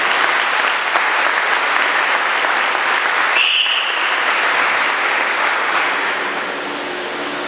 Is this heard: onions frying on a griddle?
no